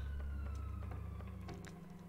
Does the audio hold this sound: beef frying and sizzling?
no